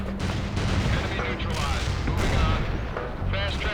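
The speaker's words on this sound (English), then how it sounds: "The shell that they're shooting is actually a missile." Tanks fire missile shells in the real-time strategy game World in Conflict, heavy repeated booms and gunfire layered in a loud, busy battle mix while someone talks over it.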